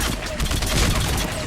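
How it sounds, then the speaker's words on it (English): SMG gunfire in Mass Effect 3, a dense rapid burst of loud automatic shots under a voice talking. "You can use the SMG on them."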